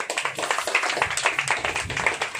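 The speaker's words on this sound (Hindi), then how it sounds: "ताली बजाए।" A small group clapping hands together during a baby shower prayer, a quick steady rhythm of distinct claps that are close and moderately loud, with a faint voice underneath.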